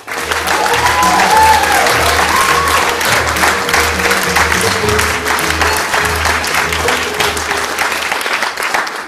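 A theatre audience claps loudly and continuously for the amateur cast of a workshop production of the play Landru, a thick sustained roar of hands with faint cheering and a few tonal notes beneath, easing slightly toward the end.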